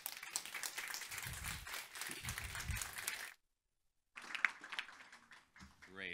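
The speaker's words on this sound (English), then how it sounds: "Please give him a round of applause." A round of applause for a speaker at a food quality event, dense clapping mixed with low voices and chatter, cutting out abruptly into a second of silence before resuming more faintly.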